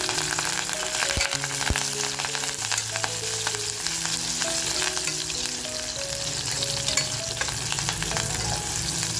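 Chilli and curry leaves sizzle and spit in hot oil over a full flame while cooking mutton masala, producing a dense, continuous crackling hiss with sharp pops, close and loud throughout.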